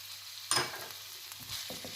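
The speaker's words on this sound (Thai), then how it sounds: "แล้วก็คนต่อไปจนกว่าจะสุก" Minced pork fries with oyster sauce and fish sauce in a hot pan. A sudden burst of sizzle as it is stirred settles into a steady, moderate crackle with a couple of soft scrapes.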